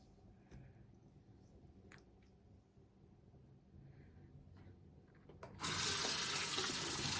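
Water gushes from a tap while rinsing, starting abruptly after several seconds of quiet small noises and then pouring steadily and loudly to the end.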